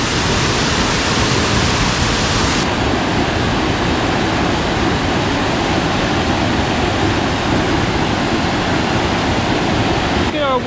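Dry Falls waterfall in Nantahala National Forest, Highlands, NC, pours in a steady, loud roar of falling water that fills the whole scene without a break.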